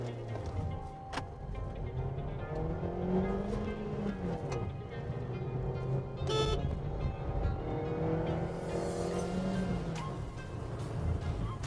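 A Honda WR-V facelift pulls away from a standstill, its engine note climbing and shifting in steady rising tones, fairly quiet and heard from inside the cabin, with occasional light ticks and clicks.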